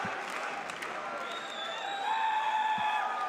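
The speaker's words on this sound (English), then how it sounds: "Listen to that crowd roar." A large crowd roars and cheers in a sustained, loud wash of noise at a StarCraft II esports tournament finals, with whistles and shouts rising over it toward the end.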